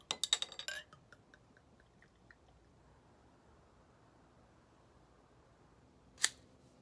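Cutting and lighting a Davidoff Year of the Tiger cigar: a quick burst of crisp snipping clicks at the start, a few faint ticks, then one sharp lighter strike near the end, otherwise quiet.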